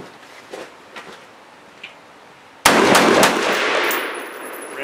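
A V Seven lightweight AR-10 rifle firing Malaysian military surplus ammunition outdoors: faint clicks and handling noise, then one sharp, loud report whose ringing echo lingers to the end.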